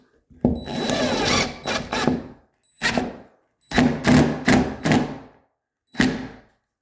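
Screws driven by a power drill into a drywall patch held in place, heard as several short bursts of whirring, a long run then four brief pulses separated by silence, close and loud.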